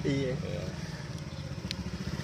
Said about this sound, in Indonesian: suara motor lewat nih